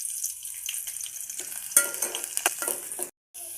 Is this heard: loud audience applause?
no